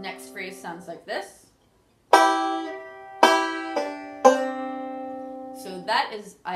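A banjo picks a phrase, opening with quick speech-like plucked notes, then three strong ringing plucks that each sustain and fade, ending with a short flurry of notes.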